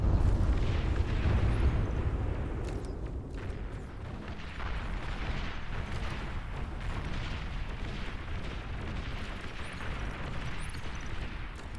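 Gunships being shot down in a BAR (Beyond All Reason) match rumble as a steady wash of distant booms and explosions, dense and continuous with no clear individual shots.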